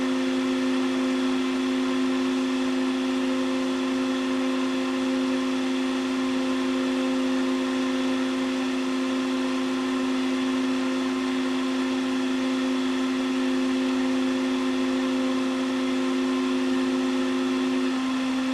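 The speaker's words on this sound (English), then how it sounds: "On this encoder, when that reaches 500, the stepper motor will stop." A stepper motor runs steadily during an encoder pulse-count test on a Hall effect encoder tester, giving a constant electric whine with a strong steady hum throughout, close and unbroken.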